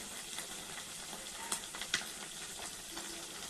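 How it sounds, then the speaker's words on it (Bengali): Small chuno fish fry in a pan with a soft, continuous sizzle and a few brief crackling spits, fairly quiet and close, with no one speaking. "এই দেখো আমি চুনো মাছ রান্না করছি।"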